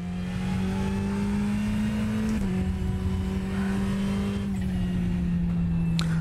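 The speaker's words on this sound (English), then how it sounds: "I do like the little fluttering sound that we've now got in the Ferrari. A nice little turbo flutter." Steady in-car engine drone of a Ferrari 488 GT3 Evo racing at the Hungaroring in iRacing, with quick pitch drops at gearshifts and a faint turbo flutter riding on top.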